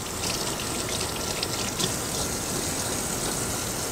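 Running tap water pours steadily over hog head meat being rinsed, a continuous close gushing splash with no pauses.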